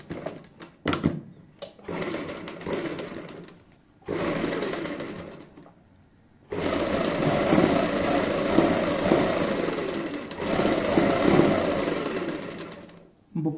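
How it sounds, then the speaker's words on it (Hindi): A sewing machine stitches a neck design with gotta patti trim in bursts: short starts and stops at first, then a long, steady, loud whirring run, close up and with no talk over it. "हम सिलाई की स्टार्टिंग करते हैं।"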